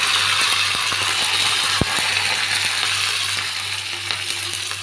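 Curry leaves and salt hit hot tempering oil for Malli Pongal, giving a steady close sizzle and crackle with a sharp pop partway through and a few spoon clicks.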